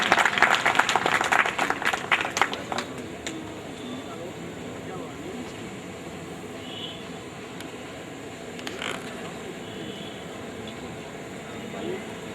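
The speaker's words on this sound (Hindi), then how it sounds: "पर जोरदार तालियां।" A crowd claps at a Delhi women's empowerment organization event, with a burst of scattered hand claps at the start that thins out within a few seconds into a murmuring room with a low hum.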